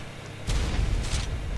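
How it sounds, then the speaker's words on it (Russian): RPG rocket blast while raiding a base in ARK: Survival Evolved, a sudden loud boom with heavy low rumble that keeps rolling and crackling for over a second after the hit. "Есть, красиво взорвало."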